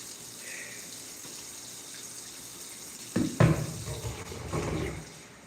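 Water runs into a pitcher, a soft steady trickle that turns louder and gushier partway through, fairly close with no talking.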